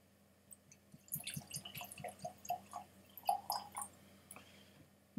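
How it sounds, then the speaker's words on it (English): Caribou Crossing single barrel Canadian whisky poured from the bottle into a glass, a run of soft liquid splashes and drips close by, starting after a quiet second and ending with a small clink. "And we'll put this in a glass."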